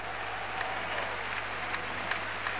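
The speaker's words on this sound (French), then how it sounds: "sous les applaudissements, sous une ovation" Faint, distant crowd applause and ovation from a basketball arena audience after a won final, a steady wash of clapping with no clear voices.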